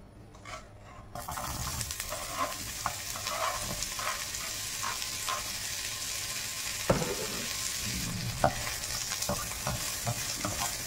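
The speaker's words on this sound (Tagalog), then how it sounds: "ilagay natin ang ampalaya" Sliced bitter gourd (ampalaya) hits hot oil in a pan, jumping from quiet to a loud, continuous sizzle, with scattered spatula scrapes and a couple of sharper clacks, close up.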